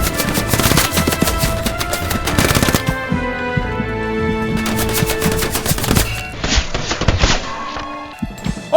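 Gunfire in the video game Hell Let Loose: loud, dense volleys of rapid automatic fire overlap with tonal game sound effects, easing briefly in the middle before another hard burst and a scattering of single shots.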